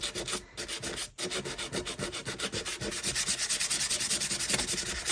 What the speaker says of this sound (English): you don't have to sand it all the way down to white if you don't want to